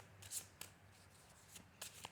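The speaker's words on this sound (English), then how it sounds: "I'll just give them one more shuffle." Tarot cards shuffled by hand in a few quick riffling bursts, quiet and close, with brief pauses between them.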